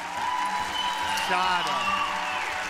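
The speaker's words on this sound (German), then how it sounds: "Applaus für Egon!" Studio audience applause for a finalist on The Voice of Germany 2023 finals, steady broadband clapping and cheering running throughout while a presenter speaks over it.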